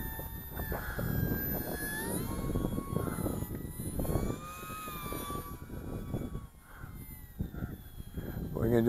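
An OMPHobby T720 brushless RC powered glider flies over a soccer field on a breezy day, its electric motor whining and shifting in pitch as it passes, mixed with wind noise while someone talks throughout.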